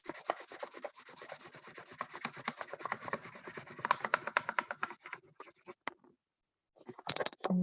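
Quick, steady back-and-forth rubbing over paper laid across a cup during a children's art lesson, a close scratchy rasp that runs for several seconds, pauses briefly, then resumes.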